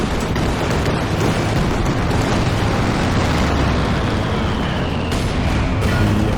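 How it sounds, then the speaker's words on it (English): Dense, continuous rumbling barrage of flame mortar blasts in Company of Heroes 2, a 3v3 World War II battle, loud and sustained with overlapping booms and bursts throughout, no voices over it. "Flame mortar support."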